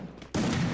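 A single sharp gunshot in the video game Free Fire cracks out loudly after a quiet moment and leaves a sustained ringing tail, with no speech over it.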